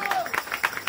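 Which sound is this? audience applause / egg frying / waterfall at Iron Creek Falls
audience applause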